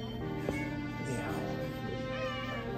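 A cat meows amid a noisy indoor scene, the call rising over steady background sound and overlapping voices.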